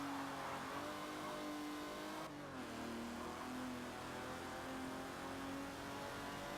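Aston Martin DB5 racing at Silverstone in Forza Motorsport 7, its engine droning steadily and loud throughout with a brief gear-change dip midway, no talking.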